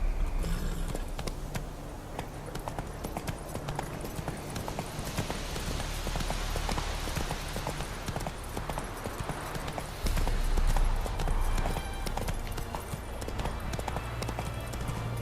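A horse in the video game The Witcher 3 runs with a fast, steady clip-clop of hooves that continues throughout at moderate loudness over a busy game soundscape.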